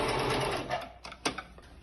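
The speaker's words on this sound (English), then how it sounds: "on the sewing machine" A sewing machine runs in a steady whir, then slows and stops, followed by a few small clicks and taps.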